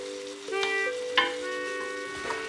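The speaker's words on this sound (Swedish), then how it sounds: "då chanterellerna börjar på knäppa och prata med vid spisen" Chanterelle mushrooms fry in a pan on the stove, a steady close sizzle with a few sharp crackles and pops, no talking over it.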